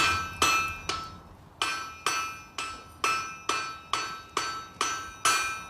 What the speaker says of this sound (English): We need to get on the side of the anvil, hammer it half on, half off, and hammer it down.